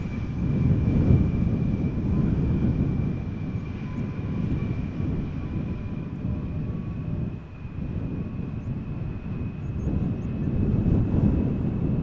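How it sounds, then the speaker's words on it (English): An Embraer 175 airliner arriving to land at Amsterdam Schiphol in gusty crosswind, heard as a continuous broad jet roar at moderate distance, swelling and easing slightly over about twelve seconds with no voices. "Embraer 175, butt shot coming in."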